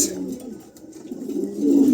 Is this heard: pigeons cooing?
yes